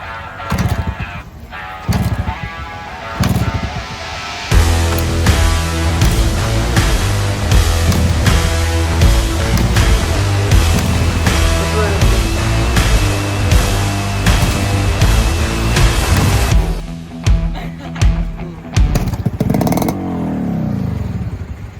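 A 1992 Yamaha RX100 motorcycle with a Japanese original engine idles loudly nearby with a steady, busy two-stroke clatter, revving and blipping between brief pauses, then dropping off toward the end.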